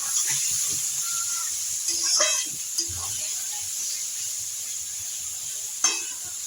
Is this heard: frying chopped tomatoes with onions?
yes